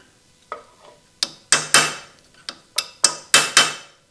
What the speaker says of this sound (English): That's the hammer's bouncing, there's no yield.